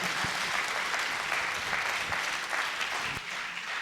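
A dense, loud burst of applause from a mushaira audience at IIT Delhi honoring a poet, sustained clapping from a large crowd filling the hall throughout.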